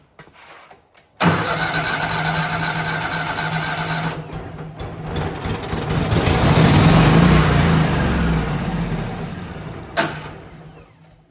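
A Miller Bobcat welder engine cranks briefly, catches, and roars to life, settling into a loud, close running drone with a rise in revs before dropping back near the end.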